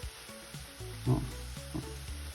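Flour sizzles in melted butter in a pan for French onion soup. The frying is soft and steady, with faint stirring bumps, and no one talks.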